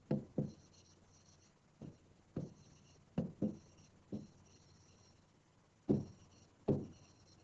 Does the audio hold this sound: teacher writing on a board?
yes